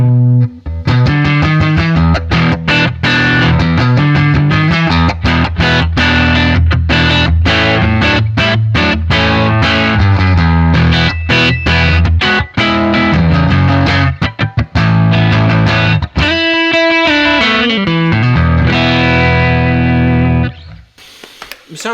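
An electric guitar played through a vintage combo amp with light overdrive, a loud continuous run of strummed chords and picked notes with sharp attacks, ringing out at the end.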